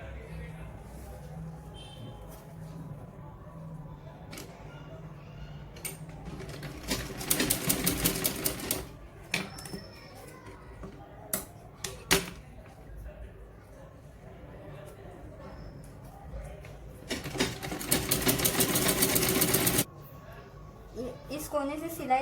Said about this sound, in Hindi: और अब इस पे सिलाई लगा लेंगे।